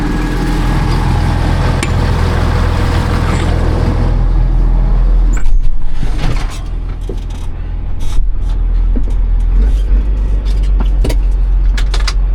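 A vehicle pulls a loaded solid manure spreader on a dairy farm, giving a loud steady engine and drivetrain rumble, then a quieter stretch with clanks and rattles from the machinery.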